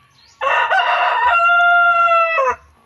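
A single loud gamecock crow, close by, a drawn-out cock-a-doodle-doo lasting about two seconds.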